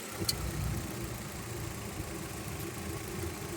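A 2021 Maruti Baleno top-end car engine idles quietly and evenly, a low steady hum with a faint brief knock near the start and no talking.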